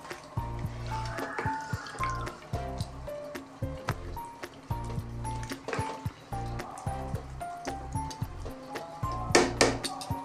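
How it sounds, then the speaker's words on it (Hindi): A glass of water is poured into a pot of beef stew, giving soft splashing and dripping liquid sounds under a steady, rhythmic background. "अब हम इसमें डाल रहे हैं 1 गिलास पानी"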